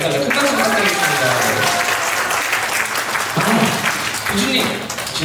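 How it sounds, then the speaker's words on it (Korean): Sustained audience applause in a hall at a Korean science society's tenth-anniversary event, a broad steady wash of clapping with voices and music-like tones running underneath throughout. "큰 박수 부탁드리겠습니다."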